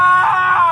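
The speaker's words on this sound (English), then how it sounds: "A blood-curdling scream comes from the forest" A blood-curdling scream from a forest, one loud, sustained, shrill cry lasting under a second.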